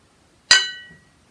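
A single bright glass clink rings out sharply, its tone fading over about half a second, alone with no talk.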